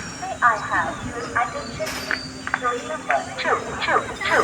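A crowded train at Khed station, with a steady low rumble of the train under a busy stream of overlapping voices, announcements and passenger chatter.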